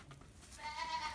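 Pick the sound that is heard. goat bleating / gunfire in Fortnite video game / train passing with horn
goat bleating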